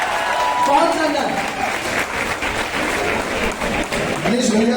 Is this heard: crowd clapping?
yes